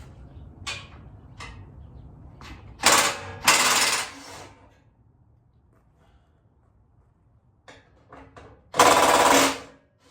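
An impact tool spins out the 12 mm bolts holding the skid plate under a Subaru Sambar kei truck. It comes as three loud, close, rattling bursts, the last the longest, with near-silence and a few faint clicks between them.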